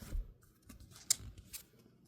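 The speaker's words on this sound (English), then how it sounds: "I'm shuffling these off camera" Oracle cards shuffled off camera for a Britney Spears oracle deck, heard as soft, quiet rustling and handling noises with one sharp click partway through.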